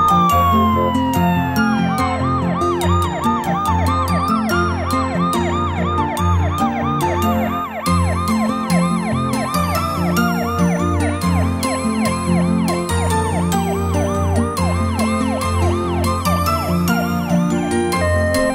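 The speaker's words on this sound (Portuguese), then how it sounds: "Ambulância." Ambulance siren from a children's toy car cartoon, a loud, close electronic wail cycling rapidly up and down in an unbroken repeating pattern over a light musical backing, with no talk.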